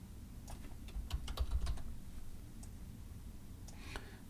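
Faint keystrokes on a computer keyboard, a quick cluster of clicks in the middle and a few scattered taps near the end, heard alone against a low room hum.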